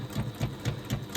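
A sewing machine runs in a short burst of rhythmic stitches, about five even pulses in quick succession, close and steady with no talking while back stitching a seam.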